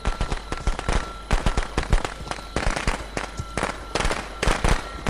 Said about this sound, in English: Firecrackers here will also stun Jason for a short amount